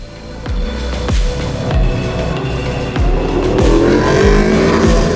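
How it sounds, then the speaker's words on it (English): At the Hoonigan Burnyard outside SEMA, a car holds a burnout with the throttle pinned, a loud, continuous engine roar and squealing tires, punctuated by repeated rev surges and gear-like drops. "they just kept the pedal to the metal doing a burnout"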